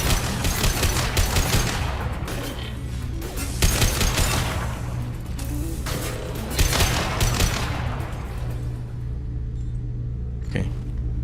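Sustained bursts of automatic gunfire and heavy shooting in a Mass Effect 2 combat firefight, loud and continuous with overlapping volleys and a sharp blast near the end, no talking.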